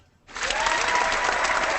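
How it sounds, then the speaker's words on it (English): A round of applause as a sound effect on a basketball podcast: a dense, steady crowd clapping that starts suddenly after a moment of quiet and keeps going at full strength. "And of course, Juno gets the round of applause."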